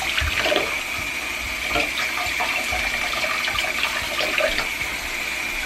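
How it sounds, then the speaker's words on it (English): Tap water runs steadily while plant leaves are rinsed front and back, a continuous close splashing and trickling with small bursts as the leaves pass under the stream. "I also quickly rinse the leaves off, front and back"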